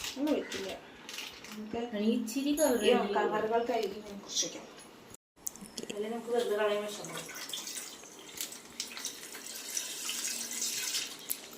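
Water runs and splashes steadily, as if poured from a tap or vessel, during Onam festival preparations, with people talking in Malayalam over it in the first half.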